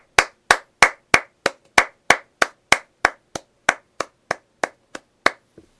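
A single person claps hands steadily about sixteen times at a slightly slowing pace, each clap a sharp, close, loud smack with a short tail, ending in a faint soft sound.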